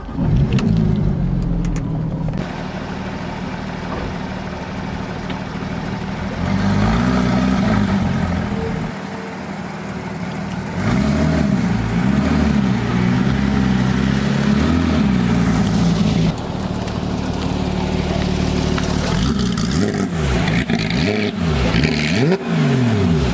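A Lamborghini Huracan fires up nearby and is revved repeatedly, loud engine roars rising and falling in several bursts between idle stretches, with no talk over it.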